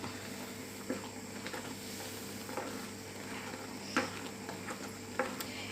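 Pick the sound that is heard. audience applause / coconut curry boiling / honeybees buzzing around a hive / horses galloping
coconut curry boiling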